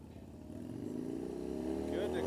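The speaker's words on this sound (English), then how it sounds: "Picks an RPM point, slow rolls the bike out there, laying out on the clutch." A motorcycle engine revs at the start line of an open jam event, rising steadily in pitch and loudness over about two seconds from a moderate distance, with a voice talking over it.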